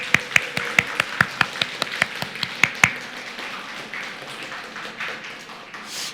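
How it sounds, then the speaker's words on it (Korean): A church congregation claps during a worship service, about a dozen sharp, evenly spaced claps in unison that soften into looser, quieter clapping. "우리 박수로 한번 축복하겠습니다."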